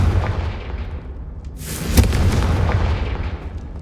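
A Confringo fire spell blasts in the Hogwarts Legacy video game as a loud booming burst midway, set over a dense, rumbling game soundscape.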